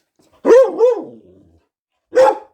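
A dog at play with a cat gives two quick close barks with a growling tail, a short pause, then one more sharp bark.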